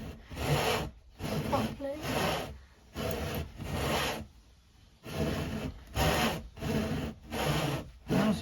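A hand saw cuts through wood in repeated back-and-forth strokes, a rhythmic rasping close by with brief pauses between strokes and a short spoken word.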